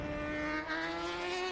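A 250cc racing motorcycle at the 2021 Armoy Road Races howls past at speed, a steady high-revving engine whine sustained throughout with a slight pitch shift, no voices.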